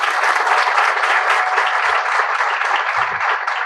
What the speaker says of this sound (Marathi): तर दादांसाठी एकदा जोरदार टाळ्या.